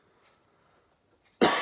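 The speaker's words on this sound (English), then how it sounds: "He says as a cough comes on." Near silence, then a single sharp, loud cough bursts out at the very end.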